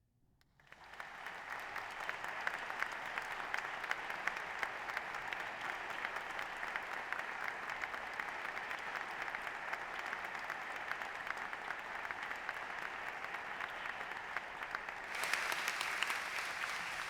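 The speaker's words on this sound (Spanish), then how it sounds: "les voy a pedir a todos un último aplauso antes de entonar el Gaudeamus" An audience gives a long final round of applause at an honorary doctorate investiture for Francisco José Chinesta Soria before the Gaudeamus is sung. The dense, even clapping rises quickly, holds steady for about fifteen seconds, then swells brighter near the end.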